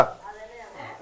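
Knife chopping spring onion on a cutting board in a home kitchen, a short burst of close, crisp cuts with no talk.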